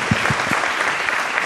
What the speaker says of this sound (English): Let's give David and Rob and Danielle and their colleagues a round of applause.